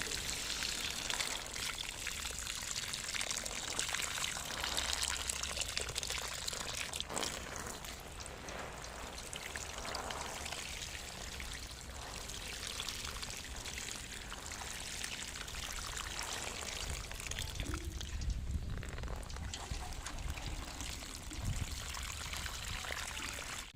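Water poured over eggplant growing in a fertilizer bag, heard as a steady soft stream of splashing and trickling that runs the whole time at moderate, fairly distant volume.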